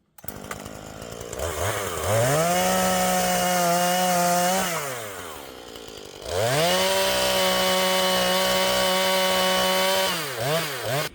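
A chainsaw roars nearby in two long cutting bursts at a bushcraft camp, the engine pitch rising and sagging as it bites into wood, with a brief idle between.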